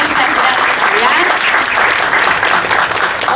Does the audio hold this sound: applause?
yes